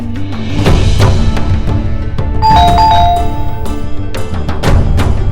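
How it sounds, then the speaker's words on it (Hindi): A two-tone doorbell chime rings clearly over loud background music, the ding-dong notes sounding a couple of times near the middle. "अरे सुनो, घंटी बज रही है"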